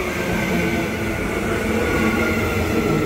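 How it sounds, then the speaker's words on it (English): A train pulls into Gaythorne Station in early-morning Brisbane, a loud, steady rumble and hiss of rail noise with no voices. "here comes my train to Central"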